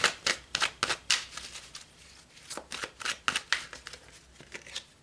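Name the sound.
tarot cards being shuffled and pulled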